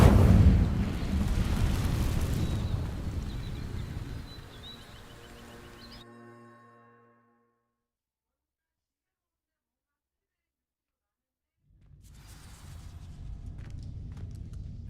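An Incendio fire spell ignites dry vines in Hogwarts Legacy with a loud, rumbling whoosh and crackling burst that fades into silence. A low roar returns later.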